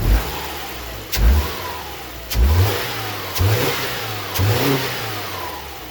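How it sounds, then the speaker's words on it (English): A Subaru engine idles, then gets five quick throttle blips during a head gasket leak test, each revving up and falling back, evenly spaced and close by. "I'm going to give it a few hits of the throttle"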